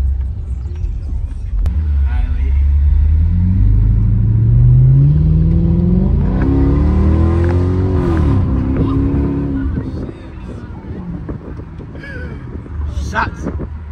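A Chrysler 300C with an aftermarket exhaust drives in heavy traffic, its engine droning low then revving up in a rising pull before easing off, heard from inside the car with wind noise and some talk.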